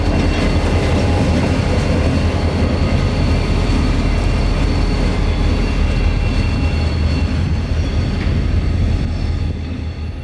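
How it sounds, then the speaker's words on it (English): A freight train shoves slowly into the Rockport rail yard, a loud, unbroken low rumble and grinding of railcars holding steady throughout, easing slightly only at the very end. "He shoved his train in with no problem."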